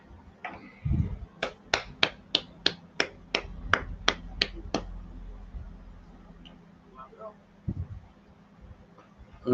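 About a dozen sharp, evenly spaced claps or snaps ring out in a steady rhythm, close and crisp, after a brief low voice, then fade into quiet room noise with another short voice near the end.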